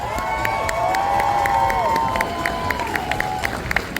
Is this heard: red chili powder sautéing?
no